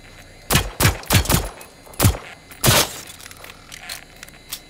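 Gunfire in the video game Generation Zero, aimed at a beacon: five or six sharp, loud shots in a quick uneven burst, some ringing like breaking glass, then quiet.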